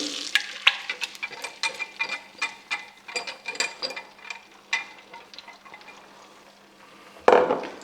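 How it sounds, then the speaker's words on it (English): Repeated scraping, clacking strokes of a utensil against a hot wok as egg mixture cooks in melted butter, in a steady rhythm, with a faint sizzle beneath and a louder clatter near the end. "now we're just gently stirring it as it cooks"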